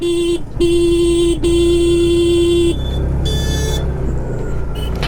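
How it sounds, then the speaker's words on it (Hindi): A loud vehicle horn honks in three long blasts at a bend on a snowy road, then a second, higher-pitched horn answers briefly over a low engine rumble. "वो भी हॉर्न दे रहा है मुझे"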